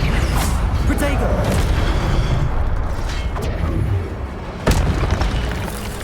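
Video game spell effects in Hogwarts Legacy during a Protego shield cast, heavy booming impacts and whooshes layered over a dense combat soundscape, with one sharp burst near the end.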